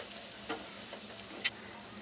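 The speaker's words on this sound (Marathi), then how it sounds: "कोबी, आता मी कोबी टाकणार आहे।" Shredded cabbage and carrot frying lightly in a pan, a soft continuous sizzle with a few faint scraping stirs, quiet and close.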